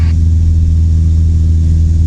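A light training aircraft's engine drones steadily and loudly from inside the cockpit, a constant low hum with no clear change in pitch and no talk.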